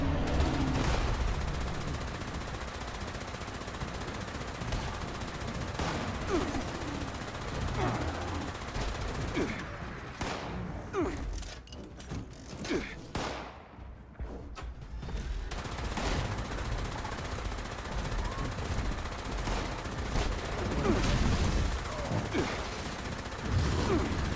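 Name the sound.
gunfire in the video game Fallout 76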